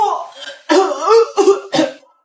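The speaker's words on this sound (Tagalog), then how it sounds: "Inuubo na!" A person coughs in several harsh, voiced bursts, close and loud, with short pauses between them.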